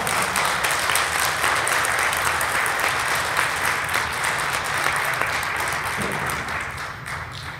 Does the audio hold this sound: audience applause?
yes